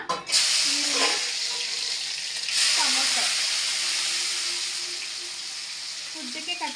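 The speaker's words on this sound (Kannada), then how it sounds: "ಇಲ್ಲಿ ಎಣ್ಣೆ ಕಾದಿದೆ ಮಸಾಲೆ ತೋರಿಸ್ತೀನಿ ಏನೇನು ಹಾಕ್ಕೊಬೇಕು ಅಂತ ಇದು ಫಸ್ಟ್ ಒಗ್ಗರಣೆಗೆ ಹಾಕ್ಕೊಂಬಿಡೋಣ" Spices tempering in hot oil give a loud, continuous sizzle that hisses steadily from start to finish, with brief bursts as more goes into the pan.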